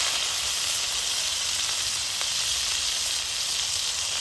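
Chopped ginger and green chilli sizzling in hot oil with black mustard seeds in a pan for vermicelli upma, a loud, steady, close frying hiss with no pauses and no talking.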